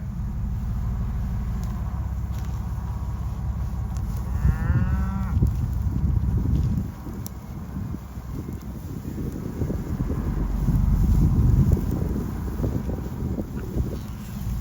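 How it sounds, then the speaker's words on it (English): A big cow moos once, a loud drawn-out low call in a farmyard, set against steady wind and rumbling background noise. "He's a big cow."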